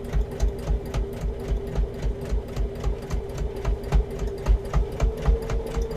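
Sewing machine back-stitching across a fabric storage box, a fast rhythmic mechanical patter of steady stitches with a constant motor hum, clear and close, pausing briefly between runs.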